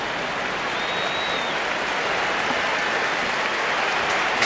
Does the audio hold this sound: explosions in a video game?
no